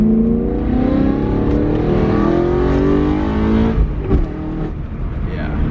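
The engine of a manual E92 BMW revs up and down with a throaty, rising and falling drone up close. It settles toward a steadier hum near the end.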